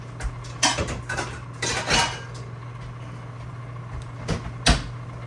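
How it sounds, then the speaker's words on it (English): Pots and pans clattering in a kitchen while someone hunts for another pan, with a series of metallic clanks and knocks of varying loudness, a cupboard-like thud among them, close and without speech. "We're going to need another pan apparently. If I can find one."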